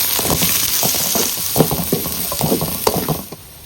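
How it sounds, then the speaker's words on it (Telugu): Carrot, beans and capsicum frying in a pan for paneer fried rice, a close sizzle broken by rapid rhythmic spatula scrapes and stirs, loud and without talk. "క్యారెట్, బీన్స్, అలాగే క్యాప్సికమ్ 3 యాడ్ చేసుకొని ఒక 2 నిమిషాల పాటు అలా ఫ్రై చేసుకుందాం"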